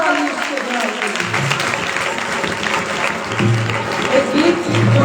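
Loud, sustained applause from a church congregation during a worship service, steady dense clapping throughout, with a voice and some low musical tones underneath toward the end.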